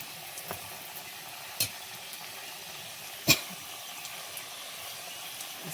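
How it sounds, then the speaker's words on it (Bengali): Fuchka puris frying in hot oil, a soft steady sizzle with a couple of sharp clicks and taps as they are turned, close and fairly quiet. "আস্তে আস্তে আমি সবগুলো এভাবে ভেজে নেব"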